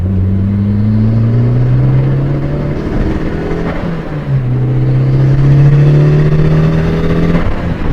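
A boosted Suzuki Swift Sport ZC31S accelerates hard from inside the cabin, its engine droning loud and steady as revs climb, briefly dropping at each shift near 4000 RPM before pulling up again.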